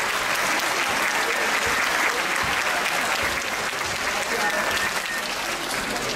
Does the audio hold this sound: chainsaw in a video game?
no